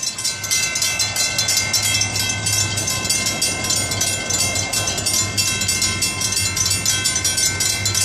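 An FEC train, number 101, rumbles steadily past up close, with rhythmic rattling of wheels and cars and a loud, sustained mechanical roar.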